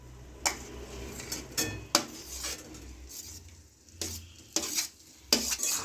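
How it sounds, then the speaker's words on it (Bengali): A utensil stirs fish roe with fried potato and onion in a pan, making intermittent scraping knocks and clinks against the metal over a faint sizzle, with quieter pauses between strokes. "এবার আমি ভালো করে নেড়ে নেবো।"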